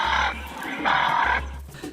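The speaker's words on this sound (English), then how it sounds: "and the sounds of another bird, a local dove species" Recorded call of a local dove species, played back on honey-hunting trips, comes as two soft, hollow coos with a short gap between them over a low background hum.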